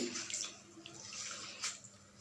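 Water poured onto a pan while making chitoi pitha, a soft, brief splash and trickle heard close and quietly.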